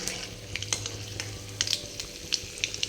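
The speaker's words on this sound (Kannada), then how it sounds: "ಅದು ಶೇಂಗಾ ಸ್ವಲ್ಪ ಚಟ್ ಅನ್ಬೇಕು ನೋಡ್ರಿ" Peanuts, cumin and mustard seeds crackle and sizzle in hot oil, a steady frying hiss dotted with sharp little pops, close and fairly faint, with no talk.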